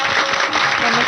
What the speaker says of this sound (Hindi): तो तालियों से स्वागत कीजिए इनका